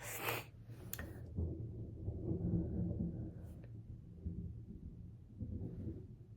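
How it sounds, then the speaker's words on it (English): Thunder rumbling from a storm outside, a low, drawn-out roll with a sharp crack near the start, heard from indoors at moderate loudness with no talking. "There's a storm outside."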